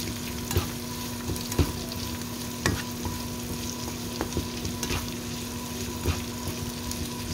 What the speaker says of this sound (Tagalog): So, put the onion and mix guys.